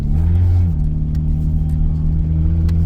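A car engine in a drift race in a field, a loud close steady low rumble with a brief change in pitch early on, droning throughout with no talk.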